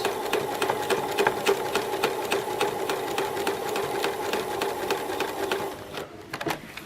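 Sewing machine stitching a quilt seam for a star block, running steadily with a fast, even rhythm of needle strikes that stops near the end, leaving a few soft handling clicks.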